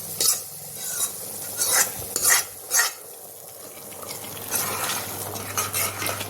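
Spice tempering is stirred into bubbling dal dhokli in a pan: a constant sizzle with repeated scraping strokes of a spoon, close up and with no talk.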